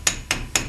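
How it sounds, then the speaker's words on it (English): A small sledgehammer strikes a car's brake caliper three times in quick succession, each hit a sharp metallic tap, close and loud, with no talking. "take our little sledgehammer here and"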